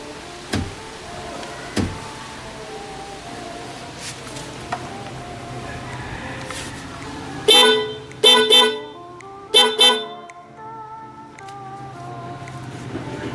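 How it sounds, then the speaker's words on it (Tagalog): On a GTR Supra 150 motorcycle, the stock horn and MOCC dual horn blare together in several short, loud honks, some in quick pairs. They follow a stretch of scattered faint clicks. "Sabay po yung stock horn saka yung MOCC horn"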